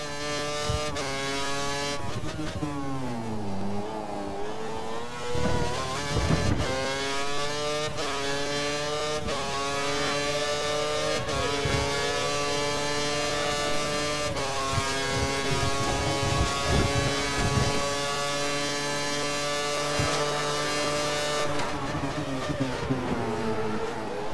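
Formula 1 car engine in the F1 2013 racing game lapping the Brazil circuit as a Sauber, a loud continuous high-pitched whine rising and falling through gear changes and braking, heard alone throughout.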